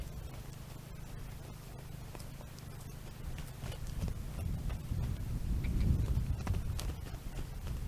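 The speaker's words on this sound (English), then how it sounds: "ask a horse to move their feet." A horse steps and shifts its hooves on the ground during groundwork training, soft, scattered thuds under a steady low background hum, with no clear talking.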